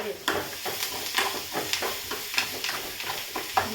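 Food frying in a pan on a home stove, steady sizzle with repeated stirring scrapes and clinks throughout, close and moderately loud.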